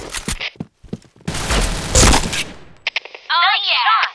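Gunfire from a first-person shooter video game, with several loud bursts of shots, including a long dense volley in the middle. Game voice lines and radio-style chatter come in between the shots.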